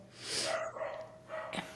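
A dog barks faintly in the background at home, a few muffled, distant barks with no one speaking over them.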